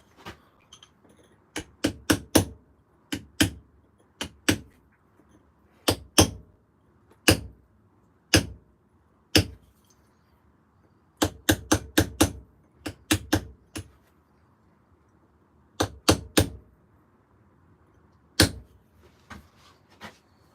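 A hammer striking a chisel while carving stone during a live stone carving session: sharp, close metallic taps in irregular clusters of single and rapid repeated blows, with quiet gaps between and no talk.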